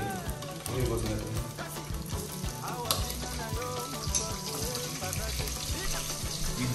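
Onions frying in hot oil with mince, a steady close sizzle with crackles and stirring running throughout at moderate loudness, with some talking over it.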